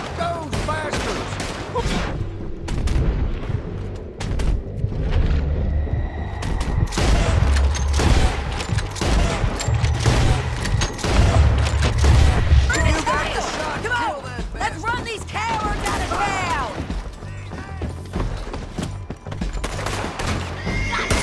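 Gunfight in Red Dead Redemption 2, with a fusillade of gunshots and gunfire ringing out alongside horse whinnies and clip-clopping hooves, while voices talk over the continuous battle.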